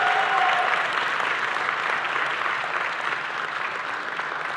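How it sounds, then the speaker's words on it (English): An audience at a gala claps for a host in sustained, even applause, fairly distant and steady, fading slightly toward the end. "Can we give a round of applause for Leslie Stahl?"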